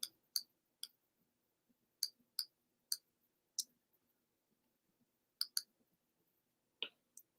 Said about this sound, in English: And I'm just using my arrow key.